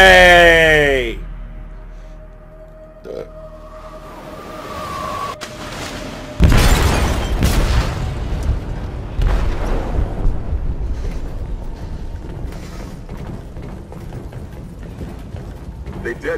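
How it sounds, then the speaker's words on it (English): A deep, loud explosion goes off in a ship's hold in the video game Detroit: Become Human. It erupts suddenly after a quieter stretch and rolls into a long, rumbling roar of debris and noise. "They detonated an explosive in the hold."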